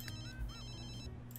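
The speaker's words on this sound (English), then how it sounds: "I hate when they just sit there and just, like, let the phone ring." A ringtone trills from a video game phone, a bright electronic chiming pattern that repeats and sustains at moderate volume, with no voices over it.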